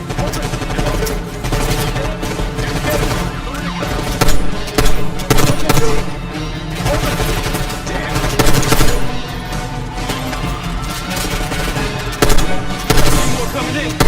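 Sustained machine gun fire in the Call of Duty Black Ops 6 campaign, dense rapid bursts with periodic louder volleys and explosions layered over a continuous battle din, close and loud throughout.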